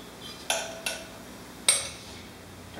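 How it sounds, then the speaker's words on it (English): Spoon mixing wet ingredients into dry ones for garlic naan dough in a bowl, three sharp clinks of utensil against the bowl separated by quiet pauses. "now we're going to mix it with the dry ingredients"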